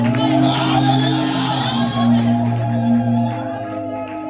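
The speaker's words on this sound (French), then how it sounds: "Est-ce que tu peux véritablement acclamer et pousser les cris de joie?" A church congregation cheers and shouts with joy during a French-language service, a loud, sustained crowd roar with whoops and cries over a droning musical backdrop.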